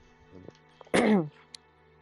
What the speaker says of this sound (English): I had to clear my throat a bit.